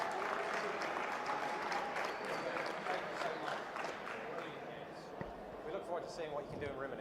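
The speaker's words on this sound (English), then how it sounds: "Can I get another big round of applause for your European champion" A crowd at a European Championship final ceremony gives sustained applause to the champion, dense steady clapping throughout with a voice talking faintly over it.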